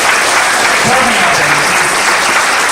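Steady, loud applause from a large audience at a business training event, continuous dense clapping throughout with a voice faintly underneath.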